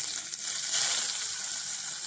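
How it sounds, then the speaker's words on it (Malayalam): Heated oil poured over a salted spice mix meant for coating eggplant gives a close, steady, hissing sizzle throughout, with no voices. "ഇച്ചിരി ചൂടാക്കിയ എണ്ണയും കൂടി ഒഴിച്ച്"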